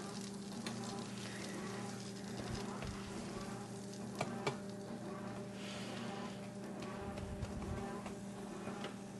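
Hard butter melts on the hot griddle of a Ninja Foodi XL grill, giving a soft, steady sizzle with a faint background hum and a few small knocks, heard up close without speech.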